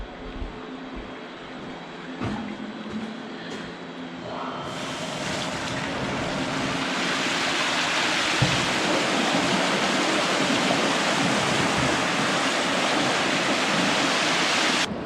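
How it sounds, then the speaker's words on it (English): Water flushes through the holding area of a dairy milking parlour, starting with scattered splashes and clunks, then surging into a loud, steady rushing roar that fills the space and continues to the end. "So now we're gonna do the holding area flush."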